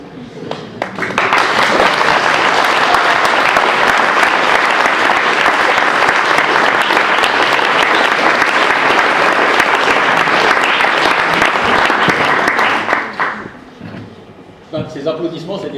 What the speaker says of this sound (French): Ces applaudissements, c'est des remerciements pour cette magnifique présentation.